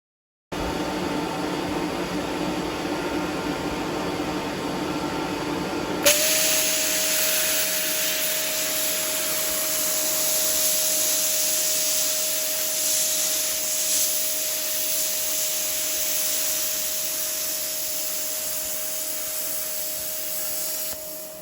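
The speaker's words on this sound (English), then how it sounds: "I started spraying the John Deere yellow" A spray gun applies John Deere yellow paint to a homemade mud mower, giving a steady, loud hissing rush that runs for about twenty seconds after an earlier stretch of quieter mechanical noise.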